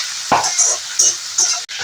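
Chopped onions frying in a pan for a taro-root fish curry, with a few short stirring scrapes over a steady, fairly loud hiss.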